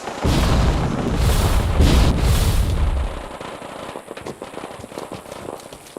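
Nuclear blasts strike the Gunners' base in Fallout 4, a loud, deep, rumbling roar of explosions for about three seconds, then fading into scattered crackling pops and small booms at a distance.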